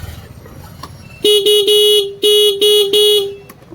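A newly replaced vehicle horn sounds six quick, loud beeps in an uneven rhythm, close by, after a few seconds of quiet road noise.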